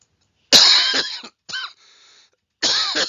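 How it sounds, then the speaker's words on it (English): Several harsh, rasping coughs from one person in close bursts, a pause, a short cough, then another strong fit, loud and near with nothing else around. "I apologize for the coughing."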